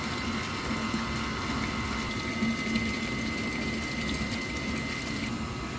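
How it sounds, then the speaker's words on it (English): Pump 1 of a process-technology temperature control loop unit runs steadily, a constant mechanical hum and whir with a faint tonal whine, holding at a loud even level throughout with no talk. "Now we can turn off pump 1."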